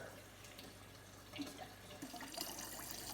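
Water running through a newly replaced filter in a Samsung RF4287HARS refrigerator, a soft steady trickle filling a container at low level with faint gurgles.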